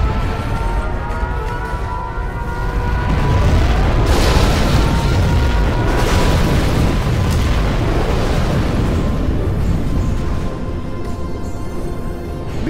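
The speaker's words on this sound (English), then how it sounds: "Launched our nuclear missile." Nuclear missile detonation in Generals Zero Hour: a loud, sustained rumbling boom that swells and rolls on for many seconds, broad and heavy, with no speech over it.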